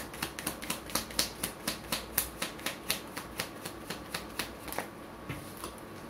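Tarot cards being shuffled in hand ahead of a reading draw, a quick, even run of crisp riffling snaps that is close and fairly soft, with no talking.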